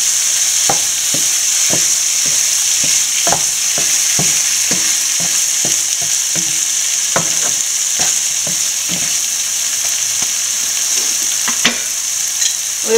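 Shrimp biryani masala fries in a pan under a loud, steady hiss of sizzling oil, while a spoon scrapes and taps against the pan in a regular stirring rhythm throughout.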